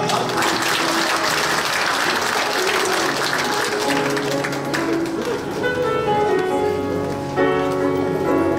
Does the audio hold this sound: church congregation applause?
yes